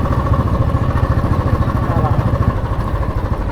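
A John Deere tractor engine runs steadily during unloading on a roadside in a village, a loud, close, throbbing low rumble with an even pulse that never lets up.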